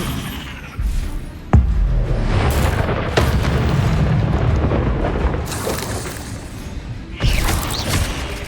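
Bombarda spell explosions in Hogwarts Legacy, fought in spider-filled catacombs: loud booming blasts with sharp onsets around 1.5 and 7 seconds over a continuous rumbling roar of game effects.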